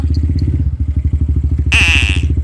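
A motorcycle taxi's engine runs up close with a steady, fast chugging pulse throughout, joined near the end by a brief high hiss.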